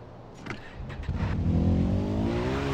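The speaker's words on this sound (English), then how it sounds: "Can you hear, like, the brrrr of the engine?" A pickup truck's engine revs up in Far Cry 4, a rising, growing roar that builds over a couple of seconds after a few short thuds, loud with no talking.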